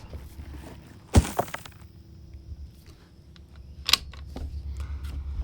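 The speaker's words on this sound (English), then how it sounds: "My box fell over." A cardboard box tips over at an outdoor rifle range, giving one sharp, fairly close knock, followed a few seconds later by a second, smaller clatter against a quiet outdoor background.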